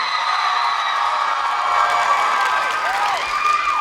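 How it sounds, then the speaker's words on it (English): A theater audience applauds and cheers loudly and steadily, a dense wash of clapping with whoops and shouts rising through it for a few seconds. "Clap for Ryan."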